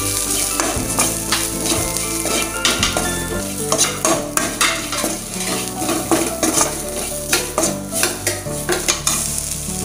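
Masala spices tossed into a hot pan for potato stuffing for rava idli, with continuous sizzling frying and repeated scraping, clinking stirs of a spoon against metal, loud and close with no talk.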